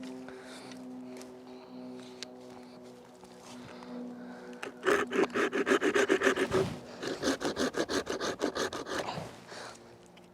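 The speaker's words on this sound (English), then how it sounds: "I'm going to take my saw and I'm going to saw them off" A hand saw works through a dead tree branch close to the trunk with quiet scraping at first, then a run of steady, rhythmic back-and-forth strokes rasping through wood.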